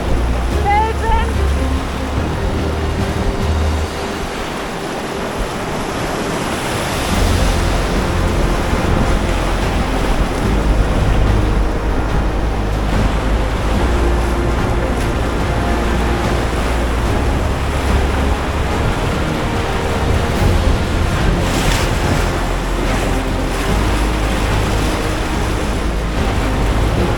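River waves and rapids on the Piteälven in Lapland during a canoe expedition: loud rushing, churning water with gusty wind buffeting the microphone, continuous throughout, with a brief spoken exchange.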